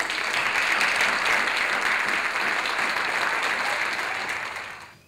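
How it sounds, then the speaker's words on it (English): Steady, dense applause from an audience at the finals of a South Asian spelling bee, sustained for several seconds before trailing off at the end. "I think we want to give him a great round of applause"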